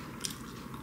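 Someone bites into a piece of sweet steamed kabocha pumpkin, making one soft, moist bite and a brief chew close up, quiet against a low background hum.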